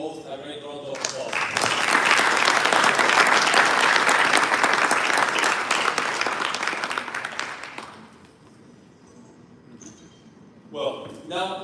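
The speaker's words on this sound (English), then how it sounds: "why don't we give them both a great round of applause" Loud applause from a conference audience fills the room for several seconds, then fades into quieter murmur before a brief renewed burst near the end.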